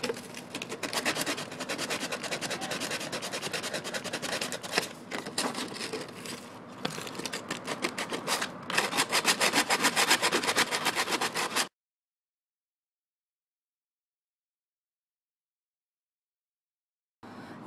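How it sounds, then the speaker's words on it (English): Sandpaper rubs over a wooden box in fast, rhythmic scratching strokes for about twelve seconds, followed by silence. "I'm going to sand this box down"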